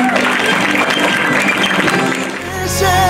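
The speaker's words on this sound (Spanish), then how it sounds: "Que se escuchen esas palmas, por favor, nuevamente." Loud, steady applause from a crowd at a quinceañera celebration, sustained clapping that dips briefly before swelling again toward the end.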